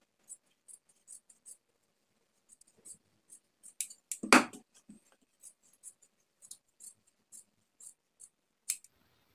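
Scissors snip along the folded edge of shirt lining fabric during boutique kurta stitching, giving a run of short, light, evenly spaced cuts with one louder crunch midway, close and quiet with no talk.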